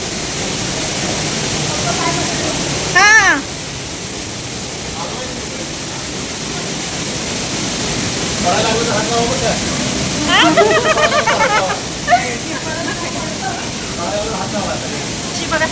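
Thoseghar waterfall pours over rock in a steady, close, broad rushing roar, with brief faint voices heard over it.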